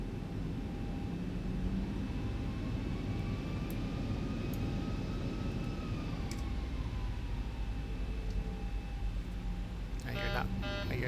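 Boeing 737-800 taxiing to the gate in the X-Plane 11 flight simulator, a steady loud engine drone with a faint whine that rises and falls, plus a few clicks and a brief rattle near the end.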